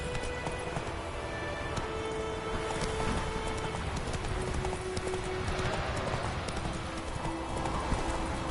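Roach the horse gallops in The Witcher, a steady, rapid clip-clop of hooves running throughout over a dense game soundscape of wind and ambient noise.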